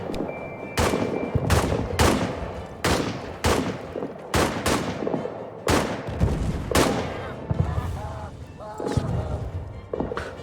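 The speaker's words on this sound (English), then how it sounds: "And so we've got general suppression fire going on right now." Sharp rifle and machine-gun shots crack repeatedly in a World War I trench battle, loud and close, some single and some in quick clusters, with heavier artillery thuds underneath and brief talking in between.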